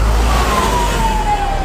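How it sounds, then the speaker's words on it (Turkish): An emergency siren wails steadily through traffic in Gaziantep, loud and close over the low rumble of engines, while an ambulance is awaited at a motorcycle crash scene. "Ambulans geliyor mu?"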